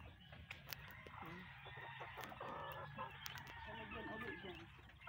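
A penned rooster and a flock of free-roaming farm chickens cluck and squawk close by in a busy, overlapping chorus, with people talking underneath.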